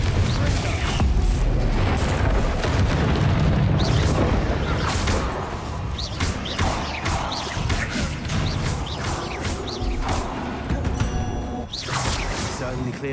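Confringo spell blasts in Hogwarts Legacy combat, a loud and continuous run of fiery explosions, crashes and pops mixed with swishing spell sounds, with voices calling out now and then over the din.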